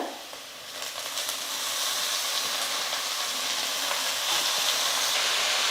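Chopped manathakkali greens hit a pan of sautéed onions and fry with a loud, steady sizzle that rises quickly and holds, with faint scraping of stirring and no talk.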